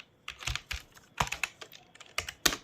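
Code is typed on a computer keyboard in quick, uneven bursts of crisp close-up keystrokes with short gaps between them.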